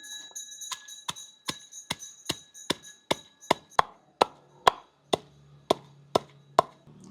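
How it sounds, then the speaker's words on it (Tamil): Dried red chillies and salt pounded in a mortar for sambal: a steady run of sharp, evenly spaced thuds, about two per second, close and loud, with no voices. "செத்தலையும் உப்பையும் சேர்த்து அடித்தா ஓரளவு செத்தல் இடிபடும்"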